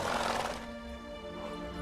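Roach, Geralt's horse in The Witcher 3, lets out a close, clear whinny that fades into a steady tonal game ambience, with no talking over it.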